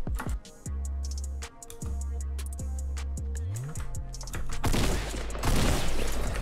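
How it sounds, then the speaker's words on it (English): Gunfire in the shooter game Fortnite, with scattered sharp shots over a steady game soundscape and a denser, louder burst of firing toward the end. "Being shot at from somewhere."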